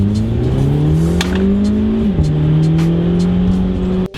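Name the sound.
car revving with muffler delete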